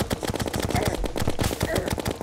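Rapid enemy gunfire in the video game Terraria, Journey mode on Master difficulty, a dense, fast, loud stream of shots layered with game effects, with a voice talking over it.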